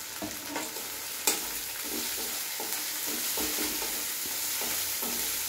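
Ginger and garlic paste fry in oil for a pea, potato and paneer ghugni, a continuous low sizzle with a sharp clank early on and light rhythmic stirring scrapes throughout.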